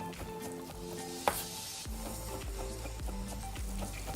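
Shallots sizzle in olive oil in a pan with a steady hiss. Brief clatters of a utensil cut through, with one sharp knock near the start, and no voices are heard.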